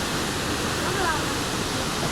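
A waterfall at Lake Como, Italy, a steady, dense rushing roar of falling water that holds evenly throughout, with faint voices barely noticeable beneath it.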